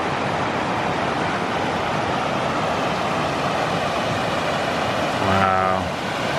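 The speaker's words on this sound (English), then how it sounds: "A little further up, there's some more rapids." Rushing water from rapids and a small waterfall on Shingle Creek, a steady broadband roar filling the whole stretch without pause, loud and close.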